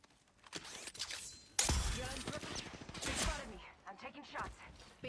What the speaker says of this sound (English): I'm taking shots. Being shot at.